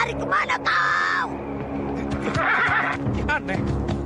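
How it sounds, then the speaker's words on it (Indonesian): A horse gives two loud, drawn-out whinnies, one near the start and another midway, over a busy background of low rumble and other voices. "Aneh, kenapa kuda ini?"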